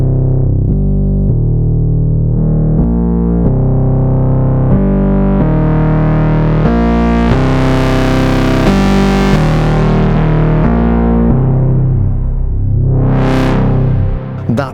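A FOURM synthesizer plays a loud, distorted synth bass line with two oscillators, stepping through repeated notes as a filter sweeps the tone brighter and then darker, with a rising and falling sweep near the end.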